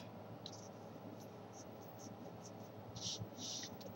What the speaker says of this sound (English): This tip to the opposite corner, just folding them in half.